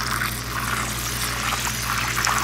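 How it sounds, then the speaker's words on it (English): Water and soy sauce poured into a hot pan in a kitchen, giving a steady close-up hiss and trickling sizzle with no talking. "add a third cup of water and about the same amount of soy sauce"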